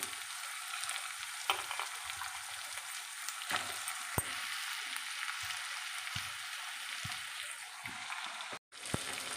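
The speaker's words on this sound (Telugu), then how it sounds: "కొంచెం పసుపు మామిడికాయ ముక్కలు కూడా వేసేద్దామండి" Raw mango pieces go into a sizzling fish curry, giving a steady hiss of frying with scattered sharp ticks and clinks from stirring, then a brief dropout near the end.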